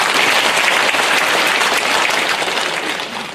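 A crowd at a rally claps loudly and continuously, dense applause holding steady before easing slightly at the end.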